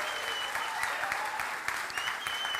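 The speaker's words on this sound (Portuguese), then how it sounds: "Dá uma salva de palmas para Jesus." Steady, moderately loud clapping from a church congregation, sustained throughout with no break.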